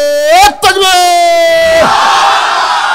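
A single speaker's drawn-out call rings out first, then a large crowd at an Islamic sermon roars the takbir back in a loud, sustained collective shout that fades into a broad, noisy swell.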